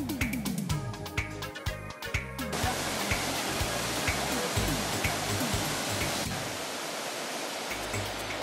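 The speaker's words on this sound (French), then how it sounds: "Un itinéraire de randonnée nous amène à la cascade aux écrevisses, où il sera possible de faire une baignade." Tropical forest waterfall at the Cascade aux Écrevisses in Guadeloupe, a dense, steady broadband rush of falling water that runs continuously under a rhythmic musical beat.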